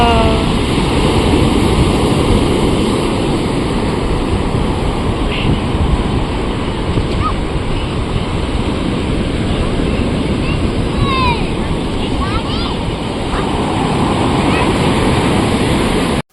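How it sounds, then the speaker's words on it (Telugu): Ocean waves surge at Chirala beach in a loud, steady, unbroken wash of surf with rushing noise filling the whole stretch, and faint higher sounds drift over it. "ప్యూర్గా అలల సౌండ్ ఎంత పెద్దగా వస్తుందో ఇందులో ఏర్పడుతుంది."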